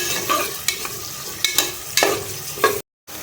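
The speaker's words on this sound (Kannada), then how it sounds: "ಕಡಬೇ ಸೊಪ್ಪು ಒಂದು ಅಂತ ಬೆಳ್ಳುಳ್ಳಿ ಇದನ್ನು ಫ್ರೈ ಮಾಡೋಣ ಈಗ" Garlic and curry leaves fry in hot oil in a pan with a loud, close sizzle, broken by several sharp scraping stirs and a brief cut to silence near the end.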